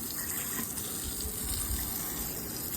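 Water from a hose sprays steadily onto the tyre of a 40-year-old Mercedes W124 during a car wash, a continuous close hiss and splash with no pauses.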